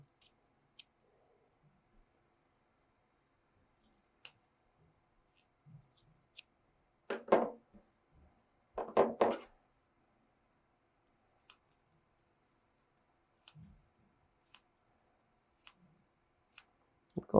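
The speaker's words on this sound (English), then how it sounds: "Hear how quick and easy those scissors are going through?" Scissors snip through four layers of flannel in two short, crisp bursts, surrounded by faint clicks and near silence.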